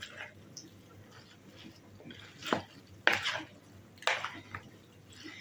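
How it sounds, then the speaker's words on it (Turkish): Cooked noodles being tossed and stirred in a bowl for a noodle salad, giving a few soft wet clatters and squelches, with sharper utensil knocks near the middle and end. "Şimdi güzelce eriştelerimi karıştırıyorum."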